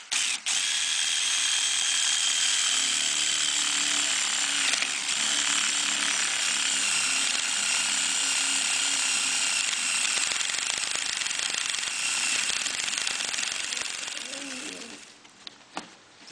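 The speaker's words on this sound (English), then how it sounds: "I'm just going to use a 3/4 inch paddle bit." A power drill fitted with a 3/4 inch paddle bit bores a hole while installing wall cabinets, a loud steady whirring grind that runs nearly continuously before winding down near the end.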